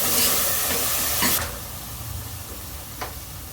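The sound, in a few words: frying toor dal in a pan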